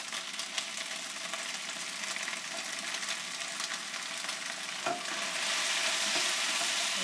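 Shrimp frying in a hot pan for Vietnamese bánh xèo, a dense continuous sizzle heard up close, briefly broken by a stirring knock and swelling a little louder near the end, with no talk.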